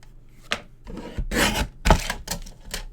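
Paper being cut into a strip for a card-making project, a run of short rasping snips and scraping strokes close by, with no talking.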